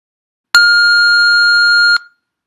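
A single electronic prompt beep from a TOEFL speaking practice test, a steady, loud, pure tone held for about a second and a half before cutting off cleanly.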